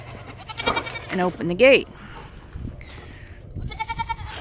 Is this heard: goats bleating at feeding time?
yes